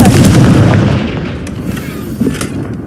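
A Confringo blast spell in the video game Hogwarts Legacy goes off as a loud, booming burst whose rumble fades over a few seconds, with a smaller thud near the end.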